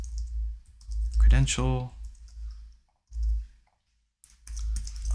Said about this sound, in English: Let's go ahead and type in unsplash named